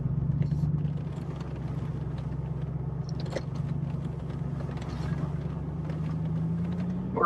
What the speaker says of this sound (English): We're also driving with aired down tires.